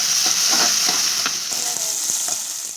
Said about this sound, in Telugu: బాగా వేగాలి, కొంచెం లైట్గా వేగిన తర్వాత టమాటాలు వేయచ్చు